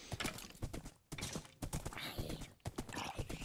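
Horse hooves clip-clop in the Kingdom Of The Realm video game, rapid galloping beats close and clear, briefly pausing twice before resuming.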